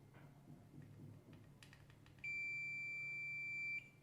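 Multimeter on continuity test while probing a component on a Springer Midea air conditioner board, giving one steady high-pitched beep that lasts about a second and a half after a few faint clicks of the probes.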